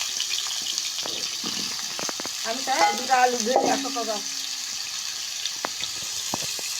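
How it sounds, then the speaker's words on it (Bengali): Potatoes fry in hot oil in a wok before beef curry is cooked, giving a steady close sizzle with scattered clinks of stirring and a brief tonal sound partway through. "আলুগুলো আগে ভাজে নেবো"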